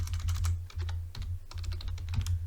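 Rapid, steady clatter of fingers typing login details on a computer keyboard, close up and continuous over a low steady hum, with no voices.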